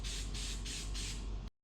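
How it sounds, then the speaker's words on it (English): K&N foam filter oil hisses from an aerosol can onto a washed foam air filter for a 2004 Suzuki LTZ250, in four quick close bursts that stop abruptly. "I'm going to use K&N foam filter oil. I'm just going to spray it."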